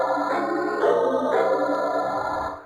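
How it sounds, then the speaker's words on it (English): A Kawai K5000S synth sample played two octaves lower than its original pitch sounds grainy and thick, with sustained tones and a soft attack that shift in a few steps and ring on without pause. "that's the sound of a sample when it's stretched too low"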